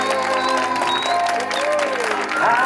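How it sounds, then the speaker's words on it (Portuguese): Clapping for a woman honored at her birthday celebration, a steady patter of hands filling the room while people talk over it and a bright voice rises in and out. "Pode bater palmas que a nossa homenageada merece"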